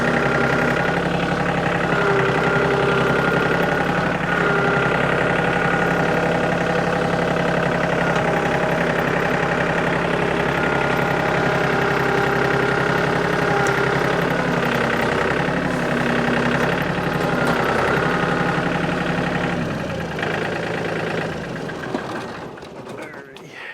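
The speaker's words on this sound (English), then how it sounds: "So we put the grapple on the tractor, and let's lift him up with the grapple." A tractor engine runs steadily at a rumbling idle with a grapple attached for lifting a log during trail work, loud and close, holding constant before tapering off near the end.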